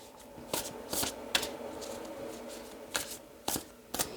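A deck of Moonchild Tarot cards is shuffled in quick, crisp riffling bursts separated by short pauses, close and fairly quiet, with no talking.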